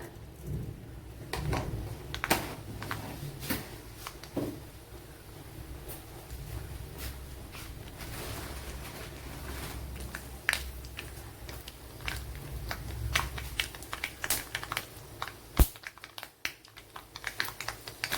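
Mustard seeds splutter in a tablespoon of hot coconut oil in a pan, giving close, irregular sharp pops and crackles over a soft sizzle, with no voices.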